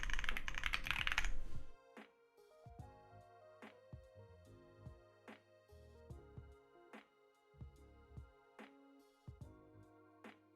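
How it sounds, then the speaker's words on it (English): Typing on a JRIS 75 computer keyboard: after a brief loud burst of noise, crisp close keystrokes come in uneven clusters, with sharp clicks and a deep thocky body on each press. "your keyboard sounds very cool"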